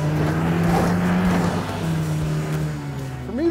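Jeep engine crawling slowly up a steep rock trail in Moab, Utah, a loud close low rumble that holds steady and then rises in pitch near the end as the throttle opens.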